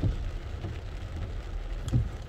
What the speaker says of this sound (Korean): 시원한 소나기가 이제 한 줄기 할 모양입니다